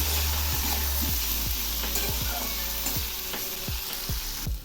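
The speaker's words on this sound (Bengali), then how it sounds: "সবজিগুলো আবার একটু নেড়ে দিচ্ছি।" Vegetables for a vegetarian spinach dish frying in a pan, a constant hiss of sizzling oil broken by repeated scraping strokes of a spatula stirring them, close and loud.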